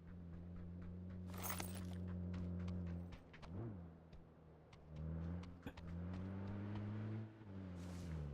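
Car engine in the battle royale game PUBG, a steady low droning motor hum that dips and rises as the vehicle changes speed, with a few sharp clicks and knocks over it.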